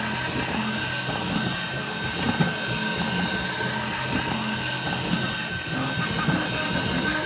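A Flyingbear Ghost 5 3D printer runs at 300 mm/s with a continuous busy mechanical whir and rattle, steady and close, with occasional sharp ticks from the moving head.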